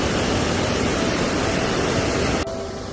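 A close, loud rush of water spills over the weir at Newby Mill, Scalby Mills in Scarborough, continuous and even, easing slightly in level just before the end.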